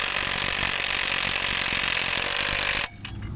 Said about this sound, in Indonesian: Bagian sini kita drill juga.